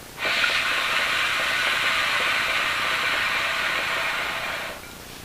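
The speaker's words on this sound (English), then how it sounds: "Alright, I'm going to take another pull" A steady breathy hiss and bubbling rush from drawing a long pull on a shisha hookah loaded with Alrayan grape molasses, close and continuous for about four seconds, then tapering off.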